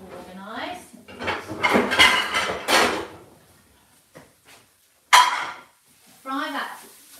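Saucepans and pots clank in a home kitchen during cooking, several loud metallic clatters and knocks in bursts, mixed with a person talking between them.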